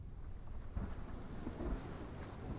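Rain and low thunder in the blue, rainy world of Hellblade: Senua's Sacrifice, a soft steady rain wash with faint rolling rumbles underneath, quiet and continuous with no voices.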